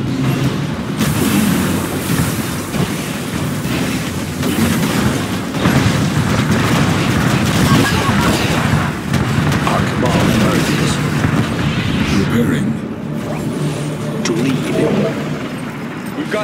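Rockets and explosions in the Command & Conquer 3 Kane's Wrath real-time strategy battle pound almost continuously, with dense booms and rumbling blasts over busy game noise, sometimes overlaid by announcer voice lines.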